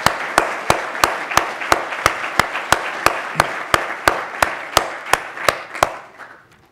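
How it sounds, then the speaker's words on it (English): Audience applause at the Seeds of Change 2015 event, with one sharp, evenly paced clap repeating close by over a softer wash of crowd clapping that fades at the end. "The applause would have gone on longer if we had more time this morning"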